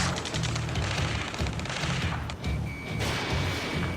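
Steady automatic gunfire rattles in Ace Combat 7 during a ground firefight at a space elevator, rapid bursts repeating in a regular rhythm, moderately distant and continuous with a brief tonal beep.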